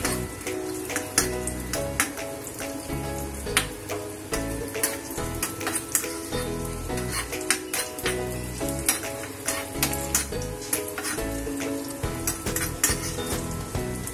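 Cashews and raisins fry in hot ghee for rice kheer, giving a steady close sizzle with repeated clinks and scrapes of a spoon stirring in the pan, and no voices.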